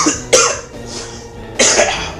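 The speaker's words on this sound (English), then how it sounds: "I'm sorry that you guys have to hear my coughing." Two harsh, close coughs from a man, about a second apart, each a sharp burst that fades quickly, with no other sound around them.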